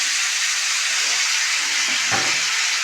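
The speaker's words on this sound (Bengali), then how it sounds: "এবারে জল দেবো" Water hits a hot pan of turmeric and sizzles with a steady, loud hiss, with a brief burst of bubbling partway through.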